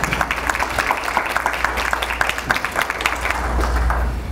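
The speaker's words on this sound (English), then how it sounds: "Please give a round of applause to Mayor Owens" A luncheon audience applauds Mayor Owens at a leadership event, a steady round of many hands clapping at moderate distance over a low room hum, sustained for several seconds.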